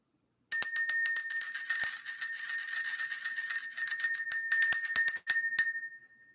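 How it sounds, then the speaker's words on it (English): A bell is rung to clear the energy during a spiritual message, giving a bright metallic ring with a rapid run of repeated strikes. The tones sustain throughout, a few louder hits come near the end, and then the sound stops into silence. "Let's go ahead and ring the bell."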